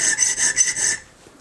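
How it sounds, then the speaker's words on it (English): Chainsaw file rasping on a small folding knife part, about five quick back-and-forth strokes close up in a steady rhythm, then a stop. "Can't beat a chainsaw file for getting into little wee tight corners like this."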